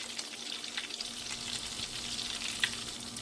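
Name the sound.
calamari and whiting fish frying in oil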